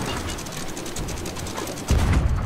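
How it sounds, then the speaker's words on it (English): Ship anchor mechanism in Sea of Thieves, a rapid clattering ratchet and chain rattle that runs steadily and then gives way to a heavier low rumble as the anchor drops. "I'm going to do an anchor turn right now."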